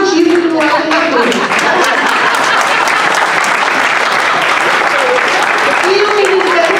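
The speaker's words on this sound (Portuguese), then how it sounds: "Bater palmas para o vereador criador da lei." Loud audience clapping fills a council chamber hearing, dense and continuous from start to finish, with a few voices calling out over it.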